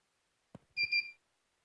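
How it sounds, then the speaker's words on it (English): An FPV video receiver powering up gives a short electronic beep burst, preceded by a faint click, heard close and alone against silence. "I got 10 rapid beeps from my receiver here"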